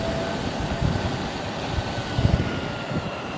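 An Evolve Fusion electric skateboard runs at full throttle up a slight hill, giving a steady broadband rolling roar with a low motor hum and a few bumps from the wheels, close by and with no talk.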